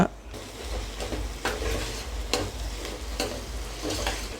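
Onions frying with mint, coriander, green chillies and whole spices for a mutton curry, stirred in a pan: a steady sizzle broken by several scraping stirs, close, with no voices.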